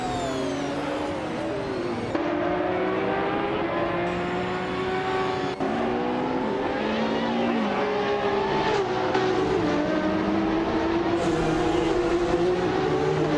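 Race cars in a racing video game roar past in a continuous overlapping drone of engines, pitches rising and falling as several cars accelerate and shift, loud and steady throughout.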